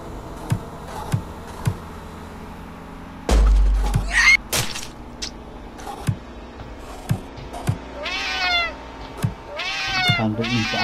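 A cat meows repeatedly in the Friday the 13th Killer Puzzle video game, with several rising, wavering cries near the end, preceded by sparse game taps and a loud thump and crash.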